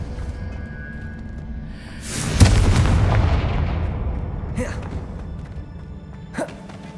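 Confringo blasting spell exploding in Hogwarts Legacy, a loud booming burst that rolls into a long decaying rumble, followed by two sharp, lighter impacts, with no talking during the blast.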